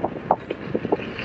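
Wind buffets the microphone while riding a Begode EXN HS electric unicycle on a windy day, a brief burst of low rumbling gusts with a few sharper thumps, close and fairly loud, no voices.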